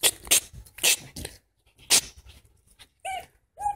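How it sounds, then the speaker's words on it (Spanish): A young puppy pants in quick, breathy bursts close by, with short pauses between them and a couple of small high whimpers near the end. "Muy cariñoso, cachorro, cachorro."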